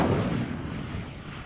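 In Hogwarts Legacy, an Incendio fire spell sets dry vines alight with a single sharp, whooshing blast that fades over about a second.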